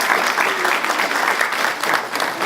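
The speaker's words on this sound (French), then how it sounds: "On peut l'applaudir s'il vous plaît." Audience applause for an actress at a film event in Grigny, a dense, steady patter of many clapping hands throughout, moderately near.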